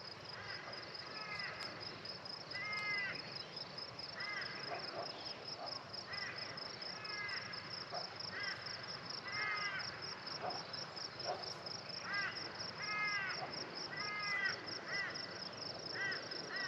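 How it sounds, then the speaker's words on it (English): Repeated harsh, warbling calls from a male magpie sounding out in short bursts every second or so over a steady high insect drone, moderately close in an outdoor garden. "So this is our local male magpie."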